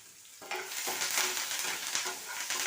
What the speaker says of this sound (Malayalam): അതിലേക്ക് ഞാൻ മുളക്, ഉള്ളി, പച്ചമുളക്, ഇഞ്ചി, കറിവേപ്പില ഇത്രയും ചേർത്തു.